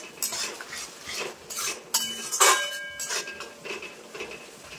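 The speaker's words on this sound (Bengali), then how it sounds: "এবার মশলাটা কিন্তু খুব সুন্দরভাবে কষিয়ে নেবো আমি, যতক্ষণ না মশলা থেকে তেল ছাড়ছে।" Spice paste with salt and turmeric being stir-fried in a pan for a Bengali snakehead fish curry: a metal spatula scrapes and clinks against the pan in irregular strokes, close and moderately loud.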